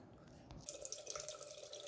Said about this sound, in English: To develop, you can just use tap water and rinse off the chemicals the chemical residue